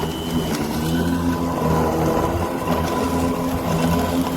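A Bosch AdvancedRotak 750 electric lawn mower, 1700 watts, cutting grass on rough ground, its motor whirring steadily with a busy rattling hum that rises and dips slightly under load.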